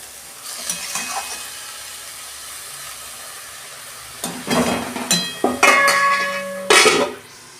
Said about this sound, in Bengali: একটু নেড়ে চেড়ে গ্যাসের ফ্লেমটা আস্তে করে আমি ঢাকা দিয়ে দেবো